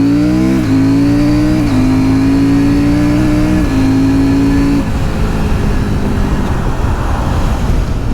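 A CFMOTO 800 MT Explore motorcycle engine pulls hard under acceleration, its steady rising drone climbing through several gear-like steps before fading into rushing wind noise, loud and close with no talking.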